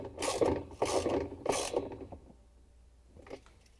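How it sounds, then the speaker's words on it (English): A ratchet with a 7/16 inch socket and extension tightens a bolt on a GE washing machine transmission, giving three loud clicking bursts followed by a few fainter clicks. "use the 7 16 inch socket with the ratchet and the extension to tighten it down"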